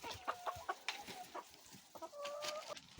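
Several hens cluck and squawk in a busy, overlapping flurry as they scrap over a mouse they have caught in a snowy off-grid coop, the calls close and fairly loud.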